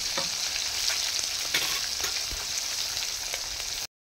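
Pieces of rohu fish fry in hot oil, giving a steady, dense sizzle up close that holds evenly throughout before cutting off abruptly at the end.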